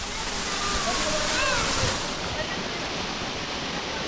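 Water pouring down from a height at Rimbi Waterfalls in Pelling, a loud, continuous roaring rush that fills the whole scene, with a few faint birdlike chirps rising briefly above it.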